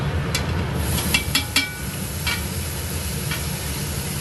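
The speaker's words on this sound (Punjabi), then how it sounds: "ਪਿਆਜ਼ ਬਰਾਊਨ ਹੋ ਗਏ ਤੇ ਹੁਣ ਆਪਾਂ ਇਹਦੇ ਵਿੱਚ ਪਾ ਦਾਂਗੇ ਟਮਾਟਰ" Tomatoes hit browned onions in a hot pan, and a steady, close sizzle hisses throughout, with a few sharp clinks of a utensil against the pan near the start.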